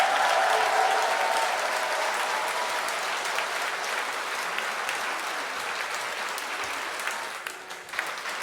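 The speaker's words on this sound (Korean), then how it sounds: "더욱 크게 박수를 쳐주시면 좋겠습니다" A congregation at a Catholic thanksgiving Mass for a retiring bishop applauds at length, with a broad, even wash of many hands clapping that slowly fades toward the end.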